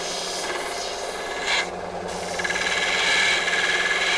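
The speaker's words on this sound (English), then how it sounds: "refining it on my little belt sander, and I'm going to make the tang a little bit thinner with the belt sander as well" A small belt sander grinds and refines a steel knife blade and tang, made from a bill hook, producing a continuous close rasping whine with a brief surge midway and rising intensity toward the end.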